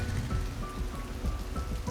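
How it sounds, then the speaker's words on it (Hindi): Steady rain falls on hard surfaces, a dense, continuous patter of drops close by, uniform and loud throughout, without voices. "ये फोन में अभी बारिश नहीं आना था"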